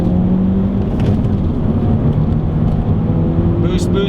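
A 2013 Ford Focus ST pulls hard in second gear, its engine droning loud and steady from inside the cabin with road roar and a rising whir, while someone talks over it.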